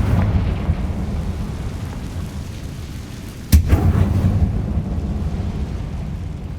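A Confringo explosive spell blast in Hogwarts Legacy, one sudden loud boom midway followed by a rumbling roar, set against a continuous low background rumble.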